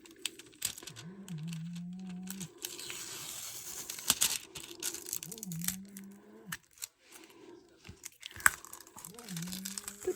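Washi tape peeled and ripped off gently and slowly, soft crinkling tearing sounds in a few drawn-out pulls, close and quiet, with a low hum and talking alongside.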